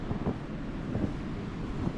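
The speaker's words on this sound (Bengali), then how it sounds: "ও আবার এই যে বাতাস হচ্ছে, ধুলার মতো বাতাস উঠে বেড়াচ্ছে" Wind sweeps across snow-covered ground after a snowstorm, a steady rushing gust that buffets the microphone with low rumbling throughout, with no voices.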